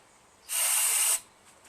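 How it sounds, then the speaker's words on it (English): A single short, steady hiss of an aerosol can of starting fluid spraying into a Craftsman 16HP LT1000 lawn tractor engine for about a second, close and loud, then stopping. "I'm going to spray some starting fluid in here."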